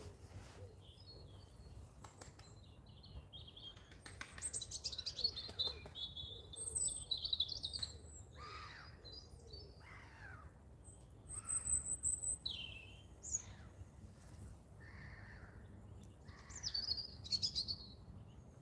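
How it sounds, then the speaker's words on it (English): Outdoor birds near a fishing spot give scattered chirps, tweets and a few caw-like calls, fairly faint and intermittent over a quiet background hum, with no talking. "Just watching the birds."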